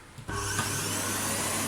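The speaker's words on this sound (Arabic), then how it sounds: "المكنسة كده اشتغلت، نشوف لما نشد السلك ايه اللي هيحصل." An electric vacuum cleaner with a faulty cord-reel power connection switches on under repair testing and runs with a steady, loud motor whine and airflow roar after a brief click, with no voices.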